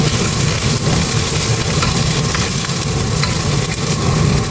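Garlic and ginger frying on high heat in a wok for Taiwanese-style beef noodles, a steady close sizzle with stirring scrapes throughout, no talk.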